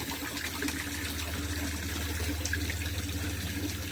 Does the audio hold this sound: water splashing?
yes